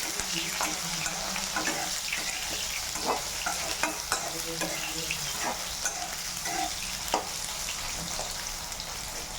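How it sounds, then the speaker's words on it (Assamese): Food frying in hot oil in a pan, a steady close sizzle with scattered stirring scrapes and clinks over the top, continuous throughout. "এতিয়া অকণমান ফ্ৰাই কৰি লৈছোঁ"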